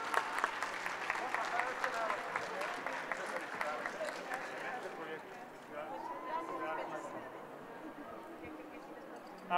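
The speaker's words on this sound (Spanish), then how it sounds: "Muy fuerte el aplauso," Applause from an audience at an education event, a stretch of clapping mixed with cheering and voices, fading somewhat after the first few seconds as a speaker continues.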